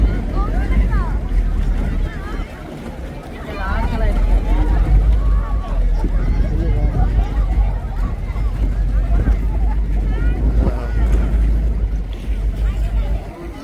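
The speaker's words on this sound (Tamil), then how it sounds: "போட்" A boat out on the open sea off Bali gives a steady, loud rumble of engine and wind noise for the whole stretch, with voices talking over it.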